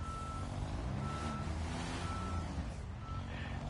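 A truck reversing in a construction simulator video game beeps steadily, evenly spaced electronic tones over a continuous engine drone, with no voices.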